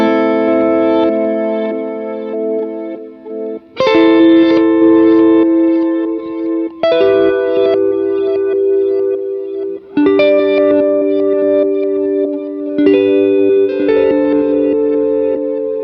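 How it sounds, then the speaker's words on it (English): Guitar through the reverse reverb mode of a budget reverb and delay pedal, with sustained chords that swell and wash in a series of roughly three-second phrases, each bloom fading into the next, loud and spacious with no talking. "So I want to take a look at the reverse setting on here"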